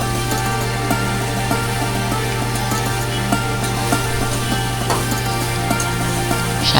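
Amaranth greens (note shak) with vegetables frying and being stirred in a pan, giving a steady close sizzle with faint scraping clicks throughout and no talking.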